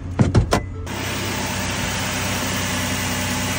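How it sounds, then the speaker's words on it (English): Newly installed replacement engine in a Ford Edge: a few quick mechanical whirs and clicks, then the engine settles into a steady, even idle that runs alone at constant loudness. "So here's that new engine run."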